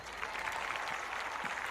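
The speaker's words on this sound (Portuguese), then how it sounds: "Aplauso para Luciane!" A Brazilian TV studio audience gives Luciane a round of applause, a short, soft burst of steady clapping with no voices on top.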